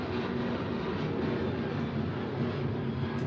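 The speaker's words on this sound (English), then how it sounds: "Oh, there's another plane." An airplane passes overhead as a steady, broad rumbling drone that stays constant and fairly faint throughout, with no talk over it.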